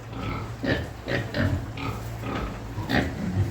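Landrace-Duroc cross pigs grunt and snort close by, a series of short oinks over a low background rumble.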